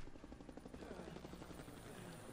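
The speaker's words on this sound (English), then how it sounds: "Helicopter?" A helicopter in the video game Splinter Cell Conviction flies overhead, its rotor chop a steady pulsing thrum that stays fairly faint and even throughout, with no talking.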